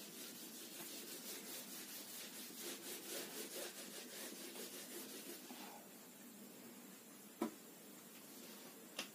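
Cloth or eraser rubbing writing off a classroom board: a steady scratchy rhythmic scrubbing that fills the first six seconds at moderate level, then stops, followed by a sharp knock near the end.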